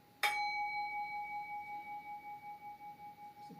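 A singing bowl is struck once near the start and then rings alone with a long, steady, slowly wavering tone that fades gradually over several seconds.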